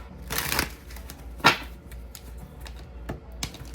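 Playing cards being shuffled and drawn from a deck during a card reading, a soft riffling burst near the start, a sharp snap-like flick in the middle and a lighter flutter near the end, close and quiet with no talking.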